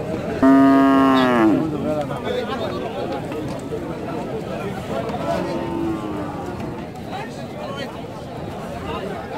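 A loud, drawn-out moo from a nearby bull rises over a busy cattle market selling improved farm-bred bulls and calves, then fades into steady crowd hubbub with people talking throughout.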